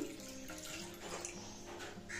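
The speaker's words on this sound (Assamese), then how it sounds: "ধুই কুকাৰটো দি ললো ইয়াত দিছো পানী" Water pouring into a pressure cooker holding washed dal, a soft continuous splashing trickle heard up close for a couple of seconds, no talking.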